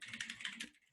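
Rapid, irregular clatter of keys on a computer keyboard being typed on, close and fairly loud for most of a second before trailing off.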